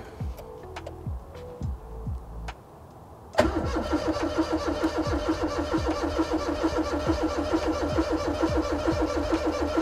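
Starter motor cranks a custom engine in a Mira that does not fire: a few short, faint whirring bursts, a brief pause, then a long steady, loud rhythmic churning with regular pulses, close up.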